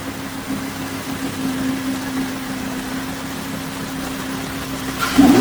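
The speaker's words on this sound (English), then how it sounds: "As you can see, there's no shaking in the engine." A Lamborghini Huracan V10 engine idling steadily after an engine swap, a smooth low hum with a constant tone and no roughness, heard close in a workshop, ending with a brief louder clatter.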